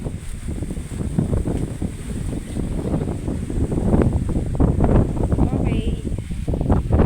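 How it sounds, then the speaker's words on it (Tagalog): Strong wind buffets the microphone in a constant rough roar on a goat farm, with a voice faintly audible beneath the gusts. "Sobrang hangin dito sa amin."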